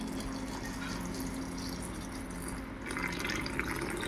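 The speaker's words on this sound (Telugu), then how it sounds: "వాటర్ అయితే పోసేద్దాం" Water pours into a blended mixture while making ghee, with a soft, steady splashing and trickling that grows slightly brighter toward the end, fairly quiet and with no voices.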